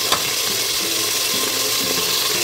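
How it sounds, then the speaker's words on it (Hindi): Chopped tomatoes and onions fry in hot oil inside a pressure cooker, giving a steady, dense sizzle that holds evenly throughout without speech. "टमाटर प्याज हमने डाल देना है कुकर में।"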